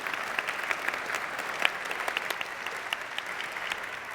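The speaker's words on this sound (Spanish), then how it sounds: "para quien pido un aplauso" Steady, moderately loud applause from a university audience honoring the rector, many hands clapping evenly throughout with no pauses.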